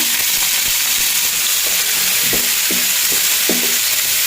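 Onion fries in hot vegetable oil with a loud, steady crackling sizzle close up, punctuated by a few sharp stirring scrapes.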